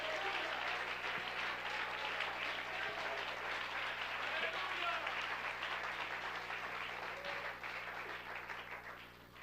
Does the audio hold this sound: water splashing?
no